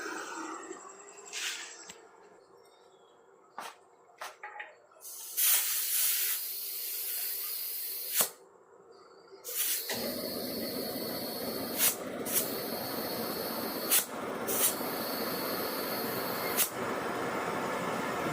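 A pressurized diesel burner stove hisses loudly, first in short spurts while being pumped, then settling into a steady, continuous roaring hiss close by, with no voices.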